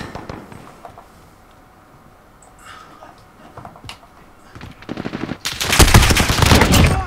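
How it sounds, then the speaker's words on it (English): Rapid machine gun fire in a Call of Duty gun game match, sparse distant shots early on building to a loud, sustained burst near the end. "Oh man, I'm getting shot from somewhere."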